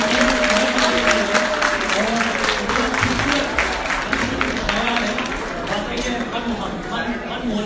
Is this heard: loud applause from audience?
yes